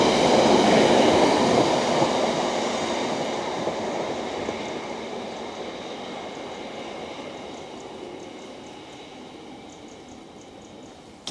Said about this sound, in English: there is actually a train coming by right now